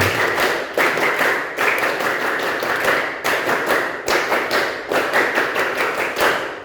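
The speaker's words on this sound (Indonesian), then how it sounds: "2 kali tepuk pramuka." Students in a school session perform the Pramuka scout clap, a patterned group clapping routine repeated in several bursts with brief pauses between them, loud and close, with no talking.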